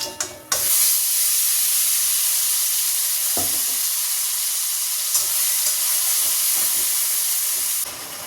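Ground spice paste hits hot oil already tempered with dried red chillies, bay leaves and cumin, bursting into a loud, close sizzle that holds steady as a bright hiss, with a few clatters of stirring.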